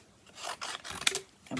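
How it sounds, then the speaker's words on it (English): Scissors make short snipping and rasping cuts as paper is fussy cut by hand, a quiet close series of three or four strokes with a small metallic click near the end. "In fact, I'm going to fussy cut the rest."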